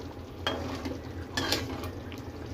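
A spoon scrapes and knocks twice through a pot of pointed gourd and potato curry on a gas stove, each stroke a short clatter over a low, steady bubbling cook.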